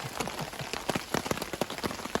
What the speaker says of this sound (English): Well, the rainstorm has started.